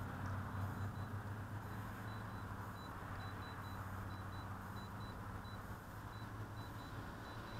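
A drone's throttle warning repeats as a string of faint, short, evenly spaced beeps inside a warehouse, sitting beneath a loud, steady broadband hum.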